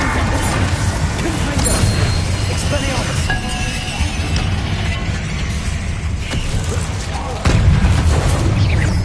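Confringo blasting spell going off in Hogwarts Legacy, loud booming bursts with crackling debris over a steady roar, a heavier blast near the end, with background speech.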